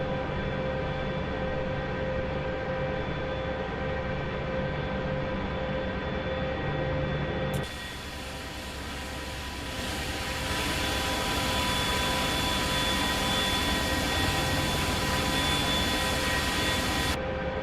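Helicopter engines and rotor winding down during shutdown in the DCS flight simulator, a loud steady turbine whine and rumble that dips briefly, then returns as a sustained hiss and drone.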